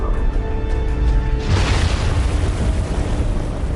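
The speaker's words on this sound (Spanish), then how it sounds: "Otra explosión estremece al barco unos cuantos segundos después." A deep, heavy boom of a torpedo exploding against a World War II ship erupts and rumbles on loudly, swallowing a quieter humming background in a sustained blast.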